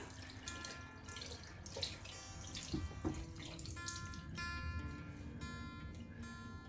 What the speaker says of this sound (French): Donc je prends mon petit coton non jetable. Je le mouille.